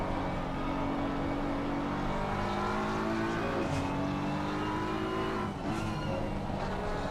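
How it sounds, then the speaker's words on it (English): GT race cars in Assetto Corsa Competizione at the Barcelona circuit, including a Pfaff Motorsports plaid car and a BMW, roar continuously at high revs with steady engine drone and rising pitch shifts as they accelerate, loud and close. "that Pfaff Motorsports car is able to just pull away out on throttle"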